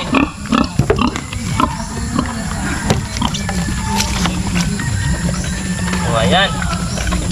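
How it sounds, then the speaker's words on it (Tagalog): A boar pig on a farm eats soft feed that smells of vinegar, with wet chewing and snorting close by under steady talk in Filipino. "Ito yung barakong baboy namin. Siya ang unang makakatikin."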